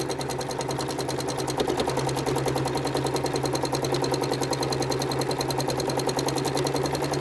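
A sewing machine quilting repeating curves on a machine fitted with an extendable table runs at a steady pace, its needle chattering in a fast, even rhythm that stays close and constant throughout.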